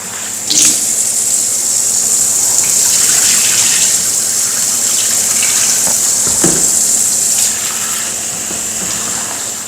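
Rice, about a kilogram, being rinsed and stirred in a vessel of water while preparing Arabian kuzhi mandi, with steady running-tap water, sloshing and occasional clatters, fairly loud throughout and no talking.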